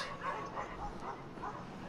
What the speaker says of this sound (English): Big dog walking through the park.